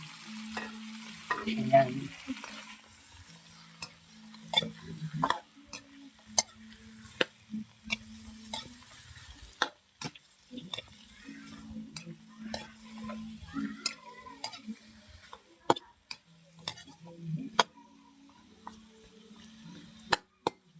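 Chicken feet frying in a pan with coconut milk, with repeated scraping stirs and clacks of a utensil over a soft sizzle, close and fairly quiet, with a few spoken words.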